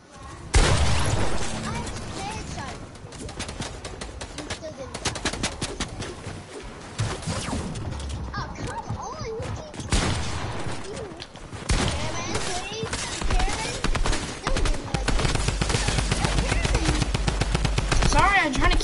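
Rapid gunfire in a Fortnite match, dense bursts of automatic shots and booms running almost continuously at close range, with occasional talk mixed in.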